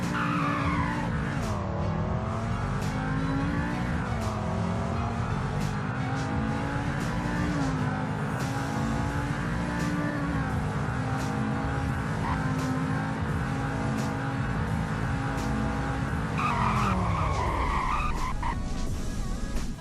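A car in the Roblox game Greenville accelerates with a rising engine drone, then brakes hard with a short tire squeal near the end, loud and continuous with no talking.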